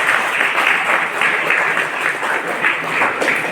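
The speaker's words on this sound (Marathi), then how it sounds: "जोरदार टाळ्या होऊ द्या" A crowd at a village health check-up camp, held during an NSS camp of a Government ITI in Chandrapur, gives loud, sustained applause as a dense, even wash of clapping with no pauses.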